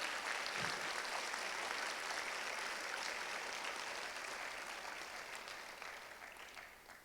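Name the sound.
audience applause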